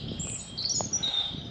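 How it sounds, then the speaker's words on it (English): A robin sings outdoors in the Vosges mountains, giving a few high, thin warbling phrases over soft background ambience, moderately close and clear. "I can hear the robin"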